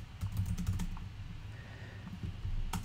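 Quick keystrokes on a computer keyboard as notes are typed, a brisk cluster of light clicks at the start, a pause, then a final few taps, soft and close.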